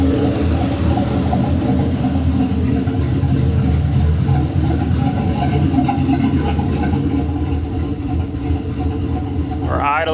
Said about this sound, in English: We're idling about 750, which is pretty much what I got it set at